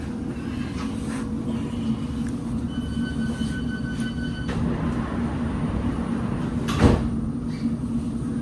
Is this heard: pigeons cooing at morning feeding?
no